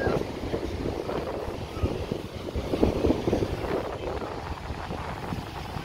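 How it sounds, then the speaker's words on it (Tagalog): Strong wind buffets the microphone in continuous gusty rumbles at a swimming beach, with faint water sounds underneath. "Lakas ng hangin eh."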